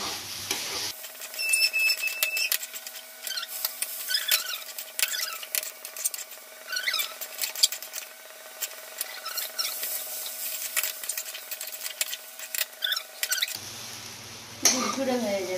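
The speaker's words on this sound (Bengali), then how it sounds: "দেবো আর নাড়াবো যাতে সুজিটা হয়ে যায়, সুন্দর করে ভালো ভালো হয়ে যায়।" A spoon stirring and scraping semolina in a pan for spicy suji poha, a continuous soft rubbing and scraping with faint sizzle, under near-constant talking.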